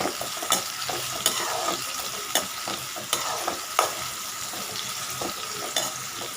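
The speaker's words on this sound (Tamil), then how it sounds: "நல்லா பொன்னிறமாக வறுக்கணுங்க." Onions fry in a pan for egg gravy, a busy crackling sizzle with regular sharp scrapes and taps of a spoon stirring them, all close and fairly quiet.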